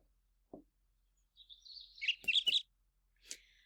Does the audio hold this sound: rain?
no